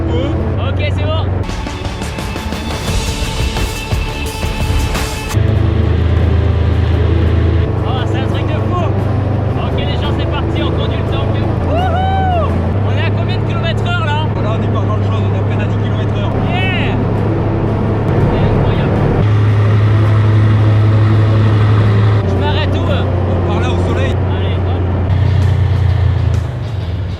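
A 42-tonne tank's heavy engine drones low and loud as it is put into first gear and driven, with shifting rumble and clanks while people talk over it.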